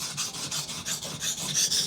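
A Jantz knife blade drawn across a concave Chosera whetstone produces rhythmic rasping strokes, about a dozen quick back-and-forth scrapes heard close up with no talking.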